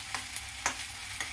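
Onions frying in a pan for chicken curry, a steady sizzle broken by a few sharp scrapes of a spoon stirring, heard up close without talk.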